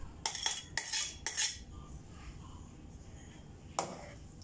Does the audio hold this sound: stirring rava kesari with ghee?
yes